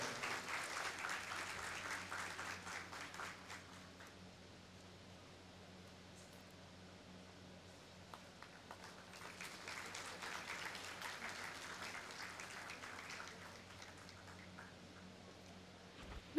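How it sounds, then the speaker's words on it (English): An audience at a medical college convocation applauds, with a dense wash of clapping that swells, eases into a quieter middle stretch, then builds again, heard from within the hall with no talking. "Please give it a big round of applause."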